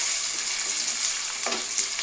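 Masala frying in a pan for egg rice, giving a dense continuous sizzle up close with a brief stirring scrape partway through.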